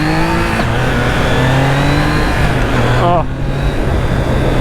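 A restricted 2021 Triumph Trident 660 motorcycle accelerating through Sydney streets: a loud steady engine drone climbing through the revs, with a brief drop and rise around a gear change and a short exclamation from the rider.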